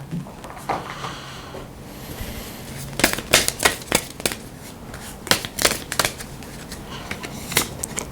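Tarot cards are shuffled and drawn in a quick, close series of crisp flicks and riffles, loud bursts clustered in small groups with quiet gaps, and no talk over them.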